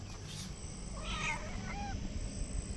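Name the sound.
cat meowing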